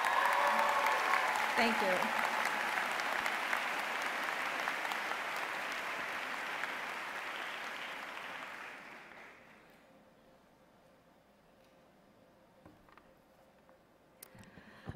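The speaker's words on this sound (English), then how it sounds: "Another round of applause for our esteemed faculty" Sustained applause from a commencement audience honoring faculty at a winter university graduation ceremony, steady and dense for about nine seconds before fading out, with a brief spoken thanks as it dies away.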